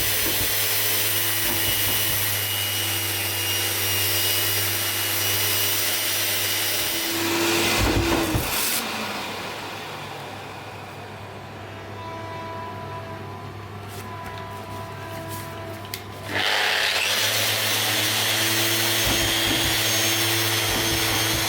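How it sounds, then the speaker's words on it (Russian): A power sander works over twelve small 3D-designed phone holders before painting, a steady loud motor whine with grinding texture that drops to a quieter hum midway and then returns at full strength. "шлифуем сразу все 12 штук уже под покраску"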